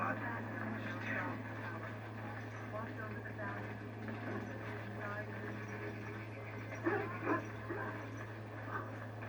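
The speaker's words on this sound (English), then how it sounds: "I must get the hounds ready for battle. Half the dogs are sick from darkspawn blood." Dogs in the kennel of the video game Dragon Age: Origins, with a few distant barks and whimpers faintly present beneath a steady hum and ongoing game speech.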